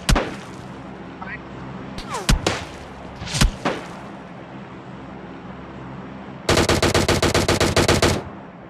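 Gunfire in a squad-based shooter game: a few sharp single gunshots spaced apart, then a rapid, loud automatic burst of evenly spaced shots lasting nearly two seconds, all close by.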